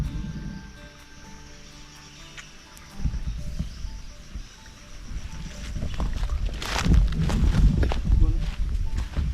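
Strong river water rushes in a steady broadband roar during a risky repair in the water. It swells louder in the second half, with wind buffeting the microphone and people talking over it.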